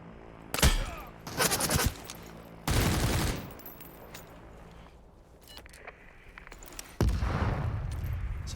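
Gunfire in the video game Super People comes in sharp automatic bursts, several rapid volleys separated by quieter pauses, with a final sustained burst near the end.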